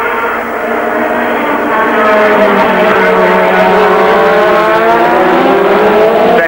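Formula 1 cars of 1986 roar past at the Spanish Grand Prix, loud engine whine rising and falling as Ferraris come through together, a continuous high-revving blare with overlapping pitch sweeps and no talk.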